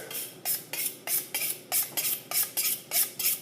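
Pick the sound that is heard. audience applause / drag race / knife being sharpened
knife being sharpened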